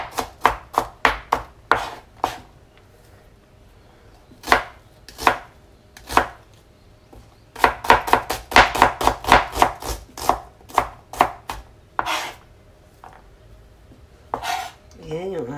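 A knife chops ingredients into small pieces on a board for a Filipino fish dish, sharp knocks coming in irregular bursts, some quick runs of rapid strokes and a few pauses, close and clear, ending with a brief voice.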